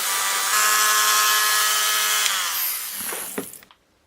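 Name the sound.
power tool shaping hole in wooden pulley block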